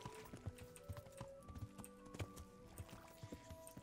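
Horse hooves clip-clop at a steady, brisk rhythm as a rider travels through a town in Kingdom Come: Deliverance, soft and evenly spaced over faint tonal background music.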